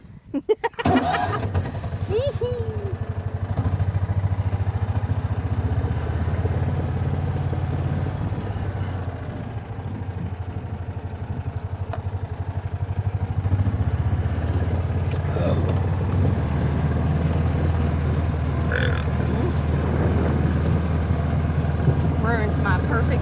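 A vehicle engine drones steadily while driving across a pasture during fence work, a low continuous rumble with occasional bumps and rattles, and people talk over it.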